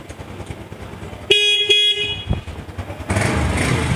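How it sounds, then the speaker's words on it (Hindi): A used motorcycle's engine runs steadily at a bike dealer, with a brief loud double horn toot partway through and a rougher, louder burst of engine noise near the end. "बड़ी स्मूथ साउंड है बाइक का।"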